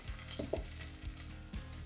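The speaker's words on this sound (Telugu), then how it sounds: "మంచిగా ఫ్రై చేయాలి." Onion and ginger garlic paste frying in a pan with a steady close sizzle and a few soft stirring scrapes, fairly quiet.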